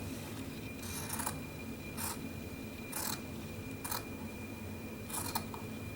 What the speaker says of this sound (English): I think I can cut just this little layer.